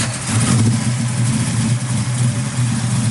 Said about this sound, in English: Thing's just good sounding motor.